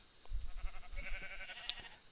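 A sheep in the Minecraft Hexxit modpack gives a single short, wavering bleat, close and fairly clear against a quiet background.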